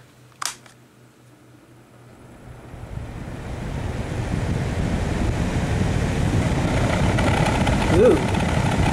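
A soft click, then a low broadband whooshing hum rises and settles into a steady airy drone, like a fan turning on at low speed.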